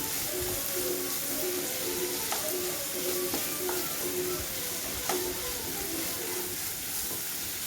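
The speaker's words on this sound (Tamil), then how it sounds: "இந்த வெங்காயம் வந்து நல்லா பொன்னிறமாக வதங்குற வரைக்கும் வதக்கலாம்" Onions and curry leaves sauté in a pan until golden for a long bean stir-fry, a steady, close sizzle running throughout with regular light scraping clicks from stirring.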